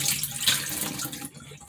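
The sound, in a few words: water rinsing black oil sunflower seeds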